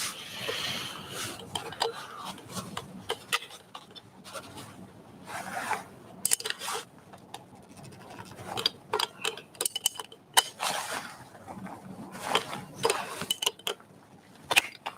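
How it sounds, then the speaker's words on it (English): Someone changes the abrasive grinding disc on a grinder, making quiet, irregular clicks, taps and brief scraping rasps up close, with faint talk in the background. "We'll change the disc."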